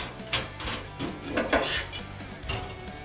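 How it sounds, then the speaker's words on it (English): Plastic end cap being worked off a wash arm from a low-temperature commercial dish machine, giving several clattering knocks and scrapes of plastic and metal at close range, with no voices. "Slowly remove the end cap."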